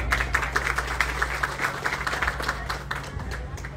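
An audience at a civic gathering with local councillors applauds with fairly quiet, steady clapping over a low hum from a PA system.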